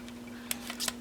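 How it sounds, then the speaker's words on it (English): Scissors give a couple of quick, crisp snips trimming the ends of a paper strip cut with a strip die, close and clear over a low steady hum. "use a pair of scissors and just gently snip the ends here"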